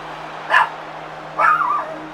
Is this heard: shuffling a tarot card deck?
no